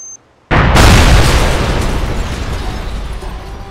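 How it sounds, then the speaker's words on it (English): A single loud explosion in the SOCOM video game bursts suddenly after a moment of near silence, then rumbles and decays for several seconds. "The explosions in this game are always like, they sounded so realistic"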